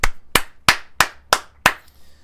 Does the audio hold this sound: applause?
yes